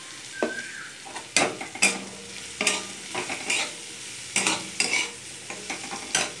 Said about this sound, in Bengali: ফুলকপি, আলু, কাঁচা লঙ্কা, রসুন, পেঁয়াজ দিয়ে এটাকে ভেজে নিচ্ছি।